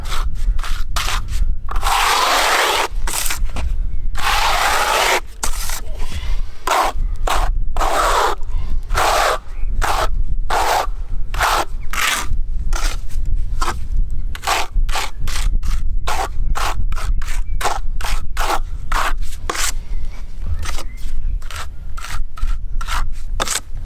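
Acrylic render on chimney tops being scraped back, with steady close rasping strokes in quick repeated bursts, continuous throughout with no talking.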